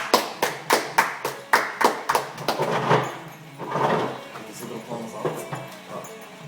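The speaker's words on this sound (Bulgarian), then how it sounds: "Аплодисменти" An audience claps for a guest introduced on a Bulgarian interview show. Sharp, separate claps come in a quick rhythm at first, then loosen into scattered, softer clapping mixed with a little background noise.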